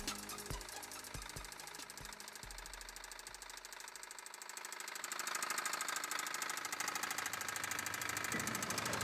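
An idling car engine with a rapid, rhythmic metallic knocking that grows louder and denser as the revs climb.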